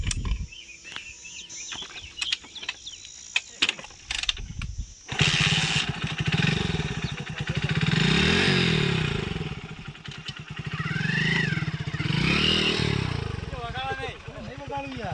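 A new motorcycle engine starts after a few clattering attempts and then runs loudly close by, its revs rising and falling, while a person talks over it.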